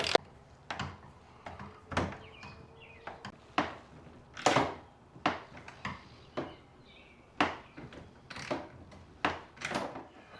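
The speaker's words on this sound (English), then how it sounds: "come in with the ratchet from the bottom" A ratchet tightens bolts from underneath on a trolling motor mount for a Lifetime Manta fishing kayak. It gives repeated crisp clicking strokes in a steady rhythm, close and moderately loud, with no speech.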